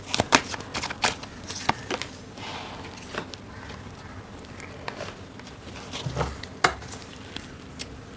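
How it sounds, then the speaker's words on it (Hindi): Tarot cards drawn and handled from a deck, giving a string of soft, quick card snaps and shuffling flicks at close range with light rustling between them, alone without talk. "3 कार्ड्स निकाल रही हूँ"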